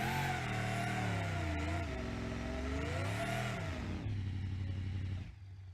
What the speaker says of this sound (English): that was a pretty shitty burnout